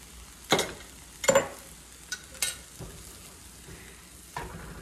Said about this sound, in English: you're just going to add your scrambled egg mix just like that